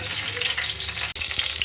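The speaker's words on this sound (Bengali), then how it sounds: "এবারে এগুলো আমি লাল করে ভাজছি" Cauliflower florets fry in hot oil in a pan, browning for a cauliflower-potato biryani, giving a loud, steady close sizzle with a brief stir and no talk.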